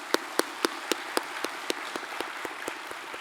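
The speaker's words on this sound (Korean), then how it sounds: "감사의 박수 한번" Slow, steady hand clapping from a congregation during a Korean church service, a dozen or so distinct claps at an even rhythm, fairly close and without talk.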